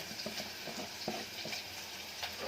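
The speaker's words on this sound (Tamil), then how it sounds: "இப்போ இதுக்கு அந்த தாளிப்பை தான் எடுத்து ஊற்ற போகிறேன்" Hot ginger tempering poured over steamed idiyappam rice noodles, giving a close, steady sizzle and crackle with a few sharper pops, heard alone without talk.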